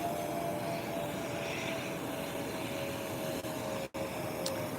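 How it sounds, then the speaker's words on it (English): A low-flying Spirit airliner passes overhead with a continuous, fairly distant engine roar and a steady tonal hum, fading slightly partway through. "there's an airplane and it seems like it's flying really low"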